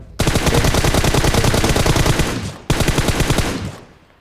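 Rapid automatic gunfire in a shooter video game squad match, two loud sustained bursts of rattling shots, the first about two seconds long and the second shorter, close and with no talking.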